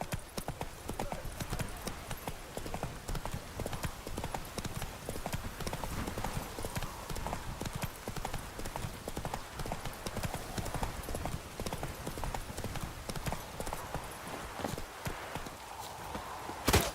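Horse hooves clip-clopping at a steady trot in The Witcher 3, a rhythmic run of close hoof beats throughout with a faint voice briefly at the end.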